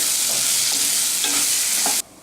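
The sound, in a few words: stirring pea mixture frying in oil with cumin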